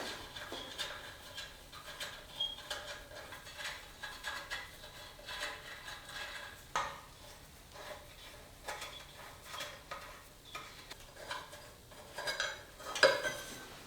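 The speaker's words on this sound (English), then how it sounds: "next I'm going to open this access panel" An access panel is opened on a large 500 lb RC wheel loader, giving faint, intermittent small metallic clicks and ratcheting taps, close up, with no speech.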